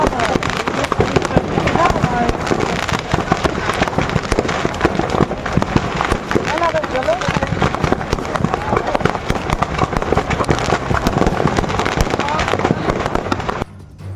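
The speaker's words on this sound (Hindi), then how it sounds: "करीब 3 घंटे तक ट्रक से इसी तरह आतिशबाजी की आवाजें आती रहीं" Fireworks pop and crackle without pause from a burning truck for about fourteen seconds. The bursts come dense, loud and overlapping, and voices can be heard faintly in the mix.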